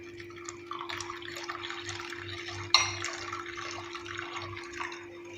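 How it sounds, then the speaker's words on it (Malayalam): Boiled water trickles and splashes into a bowl of cherry-flavoured jelly powder, a faint liquid pour with one brief sharper splash midway over a steady low hum. "ഇതിലേക്ക് നമ്മൾ തിളപ്പിച്ച വെള്ളം ഒഴിച്ചു കൊടുക്കാം"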